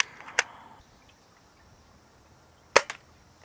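A Dart Zone Max Outlaw spring blaster fires two sharp, close snaps a couple of seconds apart, shooting foam darts over a chronograph in an otherwise quiet room.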